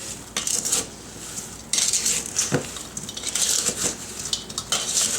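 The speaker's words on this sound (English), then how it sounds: "mush the strawberries. And mix them up really well." Strawberries get mushed and stirred in a bowl, a spoon scraping and clinking against the sides in uneven, repeated strokes, close and fairly clear.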